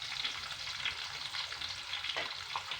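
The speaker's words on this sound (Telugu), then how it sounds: "పచ్చివాసన పోయే వరకు ఫ్రై చేయాలండి. గోల్డెన్ కలర్ వరకు రావాలండి." Chopped onions and green chillies fry in a pan for a drumstick and tomato curry, giving a steady, close sizzle with soft crackles and occasional faint stirring scrapes throughout.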